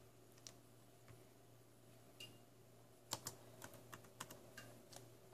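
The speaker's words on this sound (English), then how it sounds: "Let's type the passcode in." A passcode is typed on a laptop keyboard in a quiet room, with faint sparse key taps at first, then a quicker cluster of distinct close clicks over a low steady hum.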